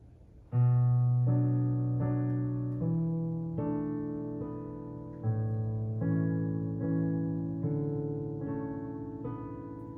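A piano plays a piece at full speed alone, each note or chord ringing into the next in an even, moderate-paced rhythm.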